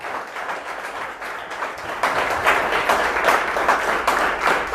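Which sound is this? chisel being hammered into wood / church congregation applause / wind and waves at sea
church congregation applause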